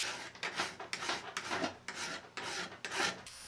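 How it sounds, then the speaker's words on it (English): Hand files rasping on knife blanks cut from a steel saw blade, steady back-and-forth strokes about twice a second, close and fairly quiet with no talking. "I roughed out the shape and then cleaned them up with a grinding wheel and some files."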